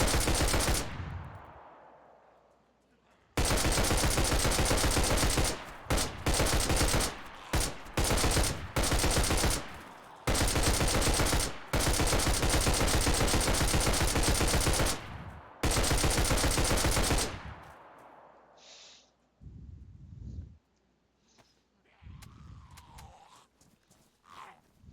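Gunfire in DayZ standalone, long loud bursts of rapid automatic shots broken by short pauses and single cracks, then fading to scattered quieter noises near the end.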